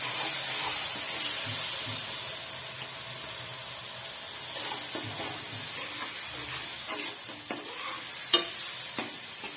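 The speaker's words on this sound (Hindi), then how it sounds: "यहाँ पे डालेंगे जी अदरक लहसुन का पेस्ट" Ginger garlic paste added to a hot pan for black chana masala, a steady loud sizzle and hiss with occasional stirring scrapes and pops, no voices.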